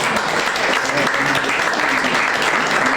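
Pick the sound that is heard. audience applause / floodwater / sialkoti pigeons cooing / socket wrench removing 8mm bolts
audience applause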